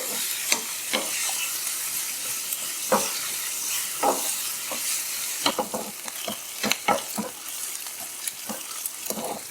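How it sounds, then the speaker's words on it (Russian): Onions fry with garlic in vegetable oil, sizzling close and steady while a spatula stirs and scrapes them in irregular clicks and knocks. "Обжариваю лук до легкого золотистого цвета."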